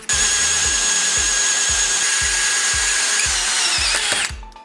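A power drill fitted with a hole saw cuts steadily through material, a loud, close, sustained whine with a regular low thumping rhythm that runs for about four seconds before spinning down and stopping.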